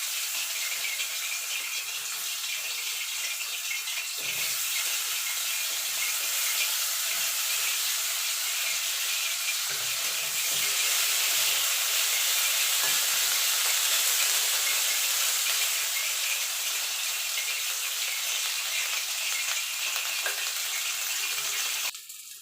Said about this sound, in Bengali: এই তেলে বেগুনগুলো ভেজে তুলে নেব।